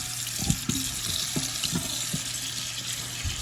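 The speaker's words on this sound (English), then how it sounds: "Rinse this meat" Tap water runs steadily into a sink while meat is rinsed for homemade chicken soup, a constant hiss broken by light splashes and knocks as the meat is handled.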